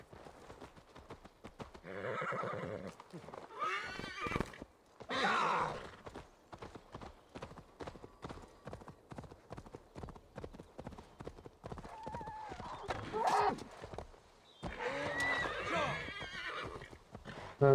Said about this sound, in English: let's grab our horse